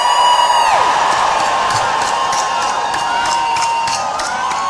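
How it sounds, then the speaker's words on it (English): A crowd at a New York City rally for justice lets out one big cheer, a dense sustained roar of whoops and shouts that swells loudly, then holds steady and slowly fades. "can I get one big cheer just to make sure they can hear us?"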